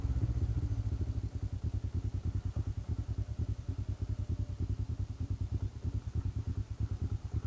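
A Honda CT110 motorcycle ridden along small country roads, its small engine putting out a steady, rapid low-pitched putter that stays fairly quiet and even throughout.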